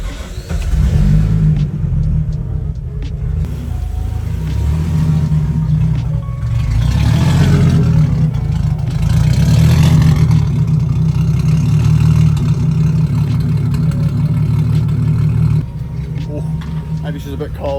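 A Nissan R32 Skyline engine fires up and revs, a loud, steady engine drone running close for most of the clip with swells in revs, then dropping slightly near the end, with voices heard over it.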